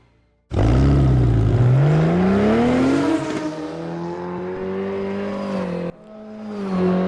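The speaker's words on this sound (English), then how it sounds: "This is the Porsche 944 Turbo Cup car." Porsche 944 Turbo Cup race car engine in the RaceRoom racing game, starting with a loud roar and rising revs, then holding a steady drone with a brief gear-change dip near the end, no talk over it.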